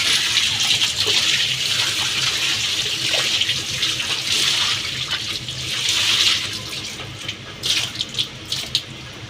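Water is poured in a continuous splashing stream at a village home, close and fairly loud for the whole stretch, with brief surges and spatters toward the end.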